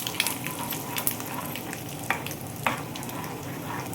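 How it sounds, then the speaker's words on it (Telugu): Mustard seeds and fenugreek seeds sizzling and spluttering in hot oil for a tempering, a steady close crackle with a few sharp pops breaking through, no voices. "కొంచెం ఆవాలు, మెంతులు, అలాగే వేగిపోయిన తర్వాత ఈ పోపు కూడా వేసేసుకోండి"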